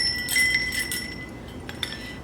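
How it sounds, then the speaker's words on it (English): A vintage bell garland used as Christmas decor jingles with bright, high, ringing chimes, strongest early on and fading into lighter tinkles, fairly close and without talking. "So it is this super cute bell garland."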